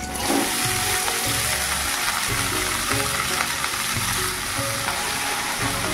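Leafy saag greens fry in hot oil in a home kitchen pan, a steady loud sizzle with rhythmic scraping strokes as the leaves are stirred.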